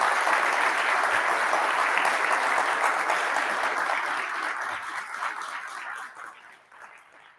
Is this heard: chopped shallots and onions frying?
no